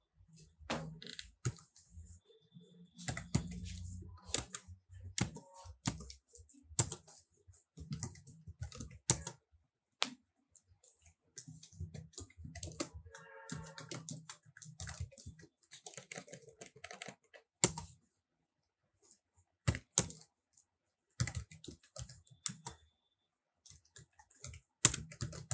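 Quick, quiet bursts of typing code on a computer keyboard, close and crisp, with irregular clusters of key clicks broken by short pauses and no voices.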